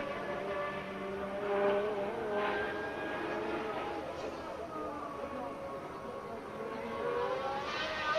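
Formula 1 race cars driving in a 1970s-era Grand Prix, a steady far-off engine whine rising and falling as cars pass, heard under a commentator's voice.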